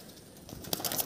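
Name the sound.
Madras pigeon cooing in a loft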